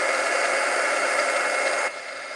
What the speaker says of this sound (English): I didn't want to talk during the embossing because they wouldn't hear me over the heat gun